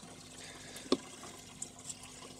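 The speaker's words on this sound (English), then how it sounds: "from this tap, the water is going to fall into the system that is just below" Water falling from a tap into an aquaponics system below, a quiet steady trickle with a faint splash or knock midway and a couple of small drips later.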